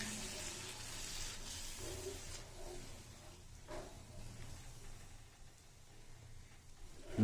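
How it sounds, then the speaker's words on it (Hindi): Yogurt cooking in a pan for dahi aloo sabzi, stirred steadily, giving a soft continuous sizzle and watery bubbling with occasional scraping, moderately quiet and close with no talking. "अब इसमें हम लोग डाल देंगे दही और साथ साथ हमें इसको हिलाते रहना है"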